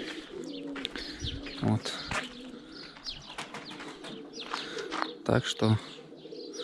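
Pigeons in a loft coo and chirp at close range, with soft repeated calls and a few louder bursts, while someone speaks briefly over them.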